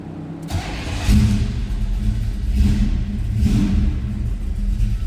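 A 1971 Buick GS Stage 1 hardtop V8 cranks briefly, catches and fires, then settles into a loud, close, rumbling idle with a few rising revs.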